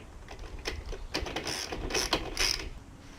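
A ratchet tightens the rear wheel axle of a motorcycle after chain tensioning, giving quick, close clicking bursts in a short irregular series.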